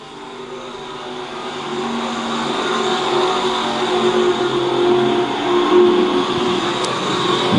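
Pure stock and E-mod cars race around the Lakeside Speedway dirt oval during a nationals main event, a loud, continuous blend of engines roaring and droning as the field laps, with no speech.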